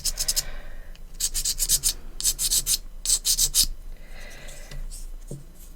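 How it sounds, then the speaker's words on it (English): Sanding a hobby model base flat by hand: repeated rhythmic scraping strokes in short bursts with brief pauses, close and moderately loud, with no talking. "Because most of that's sanded down now."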